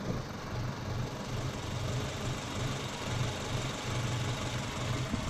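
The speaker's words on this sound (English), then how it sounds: "it's been idling for probably 10 minutes now, and it's just fine" A Subaru car engine idles steadily but unevenly with a low, pulsing rumble that rises and falls in slight surges, with no talking.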